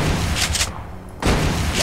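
The Hellfire weapon from the Space Pirate mod for Doom 2 fires projectile shots: two loud, gritty bursts of blasting noise separated by a brief quieter gap.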